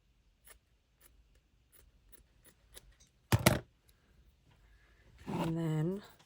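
Scissors snip once, a sharp close cut in the middle of quiet handling noises, followed by a short voice or squeal near the end.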